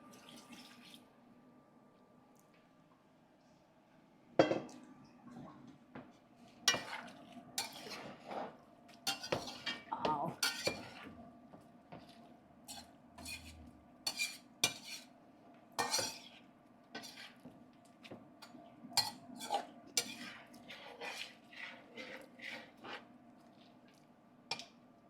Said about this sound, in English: George, get the pressure cooker for me, please.